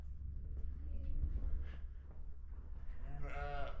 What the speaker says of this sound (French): Les moutons sous la passerelle.